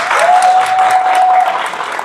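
An audience at a cup kit launch ceremony breaking into applause, a dense, even wash of clapping that holds steady for a couple of seconds, with a faint tonal whistle running through it.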